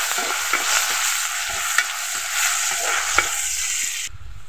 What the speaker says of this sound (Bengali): শুকনো মরিচ, এখন দিল রসুন কুচি। এগুলো হালকা ভেজে নেবে।